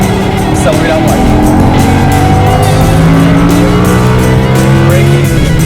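Lamborghini Huracan accelerating around a race track, the engine note loud and close, rising and shifting in pitch through gear changes, with an instructor's voice calling directions over it.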